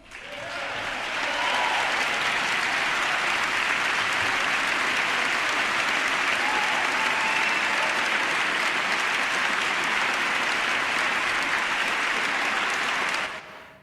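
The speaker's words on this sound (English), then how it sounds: "So the reason there was all that applause from the Democrats in the House" Applause from Democrats in the House chamber, a broad sustained roar of many hands clapping that swells in, holds loud and steady for over ten seconds, then cuts off.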